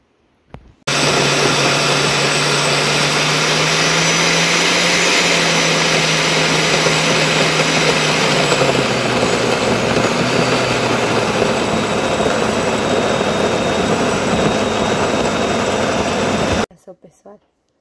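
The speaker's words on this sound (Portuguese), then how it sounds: "Agora eu vou passar aqui pelo liquidificador" A blender whirs loudly and continuously for about fifteen seconds blending cacao with milk, its motor pitch dropping partway through as the mixture thickens, then cuts off abruptly.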